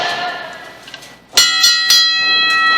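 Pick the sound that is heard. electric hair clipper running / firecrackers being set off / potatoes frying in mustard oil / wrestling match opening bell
wrestling match opening bell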